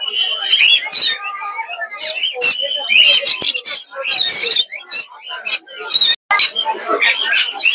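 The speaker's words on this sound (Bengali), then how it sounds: "কিছু লরি পাখি দেখতে পাচ্ছি।" Lory parrots and other caged birds chirp and squawk in short, sharp bursts at a rainy Friday bird market in Mirpur 1, with people talking close by throughout.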